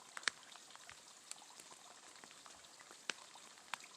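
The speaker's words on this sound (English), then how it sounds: "I hope you can hear that little stream babbling down in that little pool right there." A small stream on a mountain trail in the White Mountains of New Hampshire babbles faintly into a pool, a soft trickling bed punctuated by a few sharp, bright drips and splashes.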